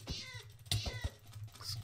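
A cat meows in the video game Minecraft, a few short faint mews over a quiet low hum with soft clicks, one louder sharp cry standing out partway through.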